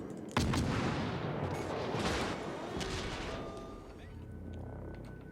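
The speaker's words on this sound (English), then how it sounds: "Just those two guns firing" Naval guns on the French destroyer Siroco in World of Warships boom in a sharp opening blast followed by a rolling, rumbling barrage that slowly fades, loud and close with no talking.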